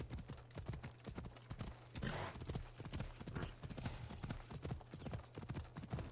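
Hoofbeats of a galloping alicorn horse in Assassin's Creed, a fast, steady clip-clop rhythm running throughout, close and fairly quiet with no talk.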